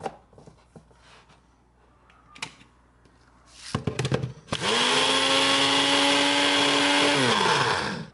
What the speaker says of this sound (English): I'm gonna blend that.